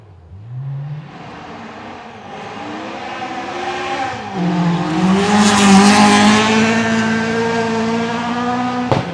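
A Ford Escort rally car with a Duratec engine charges up a gravel forest stage at the Canterbury Rally, climbing through gears with sharp revs and a brief shift dip before a loud, sustained high-rpm wail.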